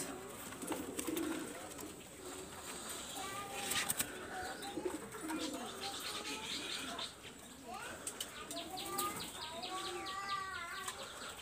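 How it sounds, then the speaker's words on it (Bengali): A female Kamagar pigeon coos in repeated soft phrases, close by, mixed with other birds calling and a little wing flapping, while someone talks over the birds. "দেখেন এটা ফিমেল কবুতর বিয়াস"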